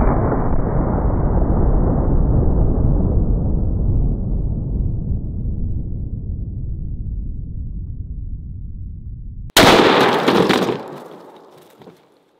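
A single huge boom from a .577 Tyrannosaur rifle fired into ballistic gel with a cinder block behind, then a long rumbling decay; a second sharp crack or impact bursts in near the end before fading out.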